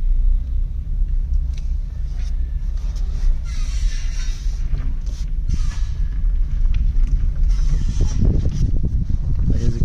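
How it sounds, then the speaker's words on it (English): A low rumble of an electric-converted Renault Clio 2 rolling slowly, tires crunching and murmuring over the ground with little engine noise, the sound swelling near the end. "the car is very quiet. No any neighbors can even hear me driving in the car"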